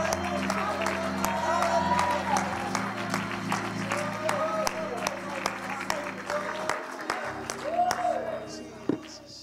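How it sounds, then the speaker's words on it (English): A church congregation clapping in praise, a steady wash of many hands with some rhythmic claps, and organ chords and voices running underneath. "Can we give the Lord a hand clap of praise?"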